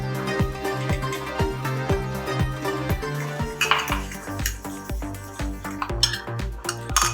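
Eggs, oil and sugar being whisked in a bowl for apple pancakes, with a utensil clinking rhythmically against the bowl in quick, close, fairly loud strokes that continue steadily throughout.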